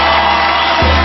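A studio audience on a televised talent show cheering and whooping, a loud dense crowd roar filling the whole short moment.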